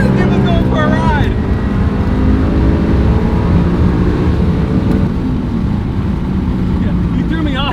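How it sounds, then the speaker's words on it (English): Running car engine with a deep, steady exhaust rumble held close and loud throughout, while people talk and exclaim over it. "I'm all for some good exhaust tones"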